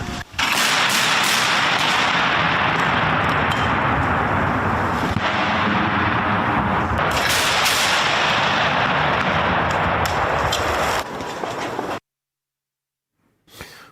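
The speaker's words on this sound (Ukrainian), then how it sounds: "як короткими черами він буде стріляти" Loud, dense automatic gunfire rattles in rapid bursts for several seconds, very close and harsh, then cuts off into near silence.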